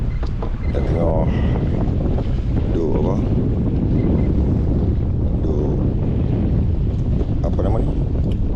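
A strong south wind blows at sea on a fishing boat, roaring and buffeting the microphone continuously and loudly, with waves and occasional voices mixed in.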